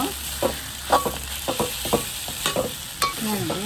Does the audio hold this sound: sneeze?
no